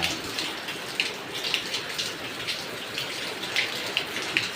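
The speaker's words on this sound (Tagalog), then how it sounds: "Mayroong bagyo ngayon, malakas ang ulan." Heavy rain pours steadily during a storm, a dense continuous hiss with scattered louder drops pattering on a surface, with no voices.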